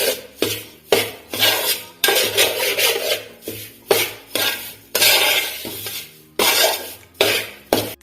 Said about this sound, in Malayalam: ഈ ചൂടിൽ തന്നെ നമുക്കിത് ഇളക്കി യോജിപ്പിക്കാം